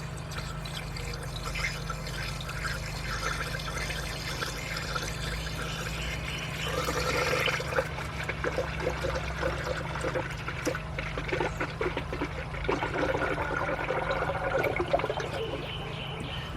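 Federated Global 50-50 pre-diluted coolant is poured slowly into the engine of a 2003 Nissan Maxima GLE 3.5 during a partial rebuild, a steady close trickle over a constant low hum, growing busier and gurgling midway.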